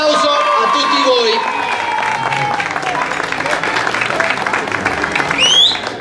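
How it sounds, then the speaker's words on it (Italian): Applause and scattered cheers from an audience at an awards ceremony for a 2021 trophy event in Sambatello, steady clapping close by, with a speaker's voice running over the start and a whistle near the end. "Un applauso a tutti voi."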